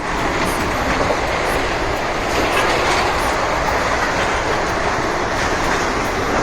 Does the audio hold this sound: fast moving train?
yes